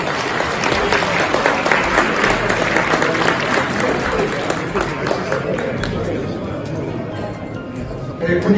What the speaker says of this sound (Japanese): 皆さん、拍手でお願いいたします。